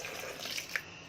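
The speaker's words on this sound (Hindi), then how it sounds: "ये पानी डाल रही हूँ" Water poured into a bowl while making Konkani sandan batter, a brief soft splashing trickle lasting about a second, close and fairly quiet with no talk.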